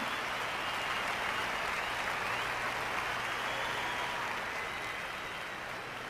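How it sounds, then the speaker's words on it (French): Steady, fairly faint applause from a congregation at a sermon, a dense even patter that holds throughout with only a slight fade near the end. "C'est facile d'applaudir ça"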